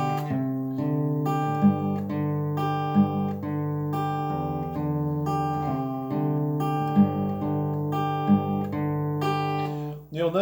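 Fingerstyle acoustic guitar plays the gentle introduction of a song, with clear plucked notes and sustained chords in a steady, simple pattern, close and solo with no voices.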